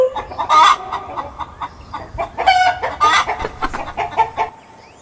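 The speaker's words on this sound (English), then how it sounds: "H for hen" A hen clucks repeatedly in short, loud bursts, close by, with a few longer squawks mixed in.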